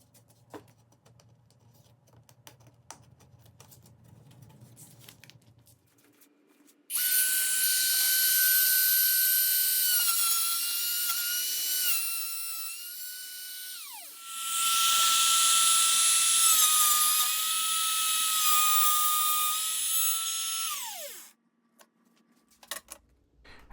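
A router fitted with a keyhole bit cuts into a wooden quilt hanger, a loud, steady high-pitched whine lasting several seconds, then a brief dip and a second long pass before spinning down, with quiet shop noise before and after.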